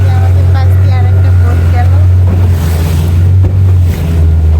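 Boat engine drones steadily and loudly as the boat moves past a mangrove forest in Sri Lanka, with wind buffeting and water rushing throughout.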